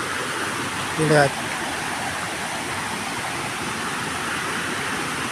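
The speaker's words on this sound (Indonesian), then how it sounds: "aliran sungainya udah terdengar banget dari sini" The river Sungai Situhiang runs beside a camping ground, giving a steady, full rush of flowing water, close and continuous. A brief spoken word cuts in near the start.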